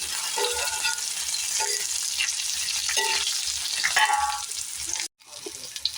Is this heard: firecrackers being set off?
no